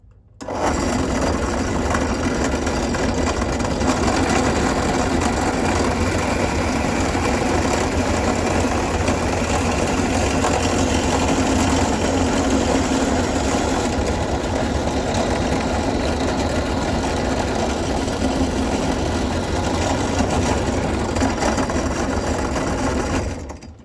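A tool drills a hole through a 1960s Veron Caribbean Coaster model boat hull for the rudder tube, a continuous steady whirring drone that holds for over twenty seconds, close and fairly loud with no talking.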